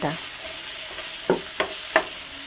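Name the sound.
stirring ginger, capsicum, tomato, green chillies frying in pan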